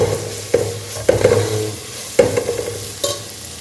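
Onions sizzle quietly in a pan while a spatula scrapes and stirs at irregular intervals, several sharp scraping strokes standing out.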